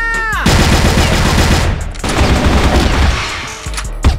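A grenade blast and gunfire in a video game: a loud burst hits after a short rising tone, then dense, rapid shots and booms continue close and heavy, with a brief pause before more shots at the end.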